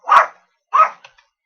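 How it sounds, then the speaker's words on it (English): A dog gives two sharp, close barks about half a second apart, then a couple of tiny yips, each short and loud against silence. "Dogs are barking."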